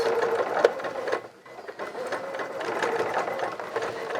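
A sewing machine hems the sleeves and leg holes of coveralls, giving a steady close mechanical whirr with rhythmic needle clatter and a brief pause partway through.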